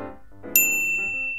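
A single bright school-bell ding strikes sharply and then rings on as a clear, sustained metallic tone, with no talk around it.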